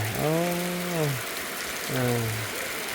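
Rain falls as a constant, close hiss. Two drawn-out, wavering tonal calls rise briefly above it.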